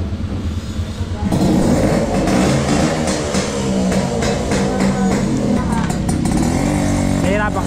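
A Kawasaki HD3 scrambler project bike starts riding off on a cave trail in Bulacan, its engine rising from an idle to a loud, close, revving drone with shifting pitch, while voices talk over it.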